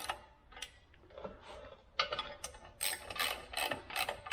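Ratchet wrench clicking in short bursts while clutch pressure plate bolts are torqued down in a criss-cross pattern on a Chevy 350 small block, close and fairly loud with brief pauses between strokes, no talking.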